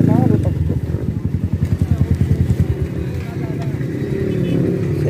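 A Kawasaki ZX10R motorcycle rides alongside a scooter, its engine giving a steady pulsing drone with rhythmic revving up close, while a voice talks over much of it.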